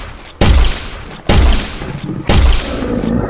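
Three loud gunshots from the video game Finding Bigfoot, each a sharp, booming crack followed by a decaying tail, spaced about a second apart with no talk over them.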